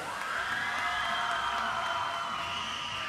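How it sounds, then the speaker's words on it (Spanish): A crowd at a youth tournament, including an under-19 women's team, cheers and shouts in a sustained, even wash of voices and whoops with no distinct claps standing out. "¡Fuerte el aplauso para todos ustedes!"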